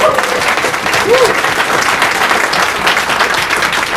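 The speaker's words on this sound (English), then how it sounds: "So a little round of applause for Lori." A seated audience at a talk gives a round of applause for a colleague, loud and sustained clapping throughout, with a brief whoop or voice rising early on.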